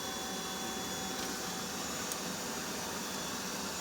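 A vacuum runs steadily while bees are removed from a seven-foot-tall hive, giving a continuous, even broadband drone that holds at one level throughout with no talk.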